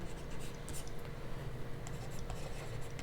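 Steady scratchy writing strokes on a board during a Class 10 maths lesson on real numbers, continuous and close, with faint background noise.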